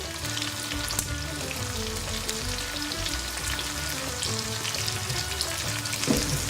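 Karela (bitter gourd) frying in a pan until well done, a dense continuous sizzle with faint stirring scrapes underneath, close and steady throughout.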